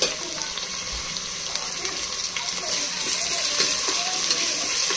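Tomato and ginger-garlic paste fry for khichdi, giving a steady, close sizzle and hiss that holds evenly and grows slightly louder near the end, with no talk.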